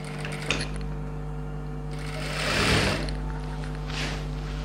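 Sewing machine stitching silk pavadai fabric in short bursts, a soft mechanical whirr that swells around the middle and again near the end over a steady low hum.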